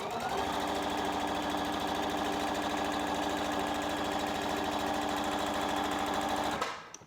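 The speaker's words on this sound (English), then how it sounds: "on your inner piece, you're gonna top stitch right along that edge" A sewing machine top stitching along the edge of a fabric face mask, a fast steady mechanical chatter running continuously for several seconds before stopping abruptly.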